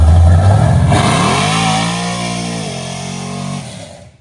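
A 1968 Chevrolet Impala V8 runs loud and close, its deep idle rising into a rev and then slowly settling back before cutting off abruptly.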